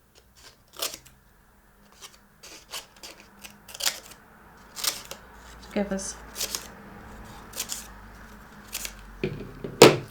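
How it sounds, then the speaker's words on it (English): Scissors snip a palm leaf shape for a craft, a series of short crisp cuts spread through the clip with brief handling noises, close up, while a person speaks in between. "we just snip"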